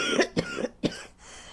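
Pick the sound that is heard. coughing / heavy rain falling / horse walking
coughing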